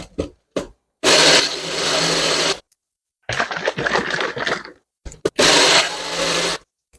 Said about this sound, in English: And then I just pop it on the NutriBullet.